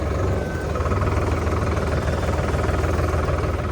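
An engine runs steadily at close range, a loud, continuous rumble with a fast mechanical throb and no voices.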